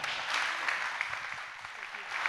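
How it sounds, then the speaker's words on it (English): Audience at a tech conference applauds after a presentation on failures, a brief, moderate patter of clapping with some voices mixed in. "let's have another round of applause for all of our failures"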